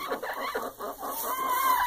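Chickens cluck at a coop in quick, close-up bursts, with a faint high tone running underneath.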